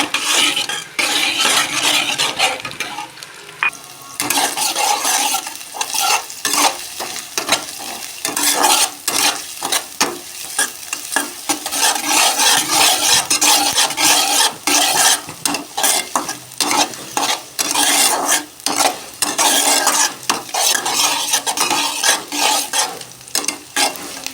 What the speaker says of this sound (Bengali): রসুন দিয়ে সামান্য একটু ভেজে নেব